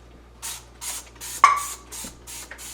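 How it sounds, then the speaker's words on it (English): A spray bottle of cleaner is pumped repeatedly inside a fridge, about seven short hissing bursts in an uneven rhythm, close by, with a small clack partway through. "I just go in and then I spray this all around."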